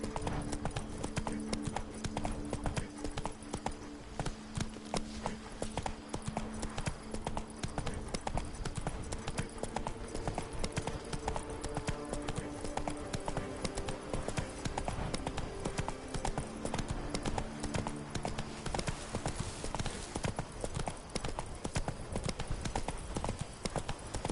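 Hooves of the horse Roach galloping in The Witcher 3 Blood and Wine, a fast, steady clip-clop running throughout over a game backdrop with some faint tonal music.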